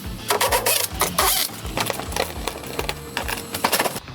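Screws being backed out of the plastic wheel arch liner on a BMW M135i, a close, repeated mechanical clicking and whirring with short rhythmic bursts and brief pauses.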